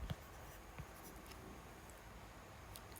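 A less-than sign written by hand during a fractions lesson: faint, close scratches of a pen on a surface, a couple of soft strokes near the start, then quiet, with no talk.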